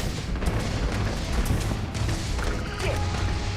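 Grenade blast in the video game Starfield, a loud booming crash over a dense, continuous layer of combat noise with no clear gap, sustained for a few seconds.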